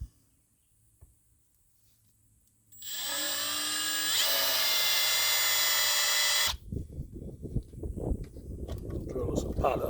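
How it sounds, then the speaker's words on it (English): A power drill boring a pilot hole into a piece of scrap metal, a steady loud high whine for several seconds that cuts off abruptly, followed by scraping and clattering handling noise. "Drill us some pilot holes first."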